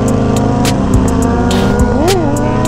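A Harley-Davidson motorcycle rides in a big group ride, its engine droning steadily and close while the pitch rises and falls with the throttle, with short bursts of wind noise over the top.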